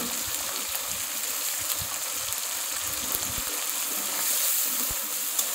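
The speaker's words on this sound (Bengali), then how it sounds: "পেঁয়াজের সাথে একসাথে ভেজে নেব" Shrimp and onion fry in a pan with a steady, dense sizzle that goes on without a break. The hiss stays bright and close, with small pops and crackles and no voices.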